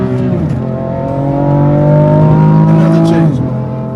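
A BMW M4 Competition, gearbox in its sportiest setting, revs hard at full throttle, a loud rising engine note climbing steadily before a brief drop near the end, with some voice over it.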